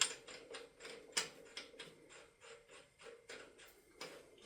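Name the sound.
crank bolt being threaded in on a Mazda Miata engine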